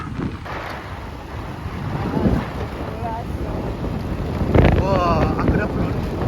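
Wind buffets an outdoor microphone in a steady low, rough rumble for the whole stretch, swelling in gusts, with a faint voice briefly audible underneath.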